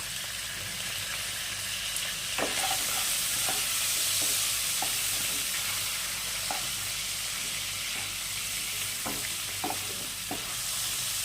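Hilsa fish pieces rubbed with salt and turmeric fry in hot oil, giving a steady, close, loud sizzle with scattered pops and crackles throughout.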